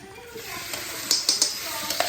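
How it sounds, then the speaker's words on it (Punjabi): Soft frying sizzle in a pan, with a few sharp metallic clinks of a utensil stirring near the end. "ਤੜਕਾ ਧਰਦਾ"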